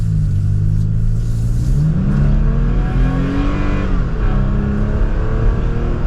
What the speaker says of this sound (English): let's give it a little bit of gas, because this TRD Offroad has the TRD exhaust, which definitely sounds pretty good